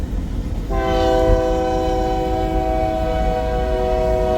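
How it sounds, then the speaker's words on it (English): Westbound empty coal train at Pacific Junction, Iowa, sounds a loud sustained multi-note horn chord that begins abruptly and holds steady over rumbling rail noise, fairly close. "there's another westbound empty coal drag coming north of the Council Bluffs Sub, heading west onto the Creston Sub"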